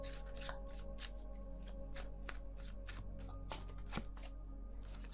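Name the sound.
tarot cards being shuffled and drawn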